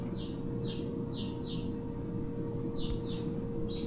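Birds chirp in quick, high bursts against a steady background hum at a campsite in Kings Canyon, the calls coming in small clusters with short gaps between them.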